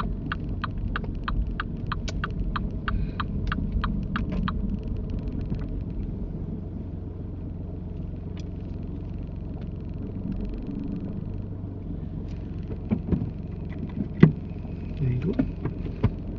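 Low steady engine rumble from inside a car creeping forward into a parking bay during a UK mock driving test, with rhythmic indicator ticking at the start and a few soft clicks and knocks later.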